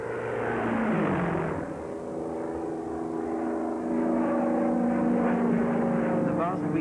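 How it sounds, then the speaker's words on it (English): Propeller crop-dusting planes drone loudly nearby while spraying insecticide, the engine pitch shifting as they pass, with a voice narrating over the roar. "These planes are not laying a smoke screen, but are spraying crops with insecticide"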